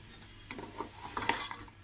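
Beef for nehari fries in a pot as it is stirred, giving faint scraping and soft clinking of a utensil against the metal, growing a little busier toward the end, with no talk.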